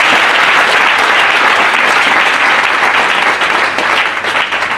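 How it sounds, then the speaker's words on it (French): A church congregation applauds loudly and steadily, a dense wash of clapping that fills the whole stretch at close range, with no clear talk over it. "Acclamons très fort le Seigneur."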